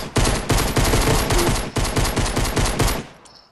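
Sustained rapid gunfire in a video game, loud bursts of automatic shots repeating almost without pause for about three seconds, then tailing off into quiet.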